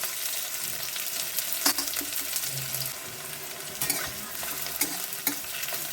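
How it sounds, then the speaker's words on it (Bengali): Two large cut onions frying in oil with dried red chillies, crackling and sizzling close up with scraping stirs and a few sharp pops, no talking. "এই যে দুটো বড় বড় পেঁয়াজ কেটে তেলের মধ্যে ছেড়ে দিলাম"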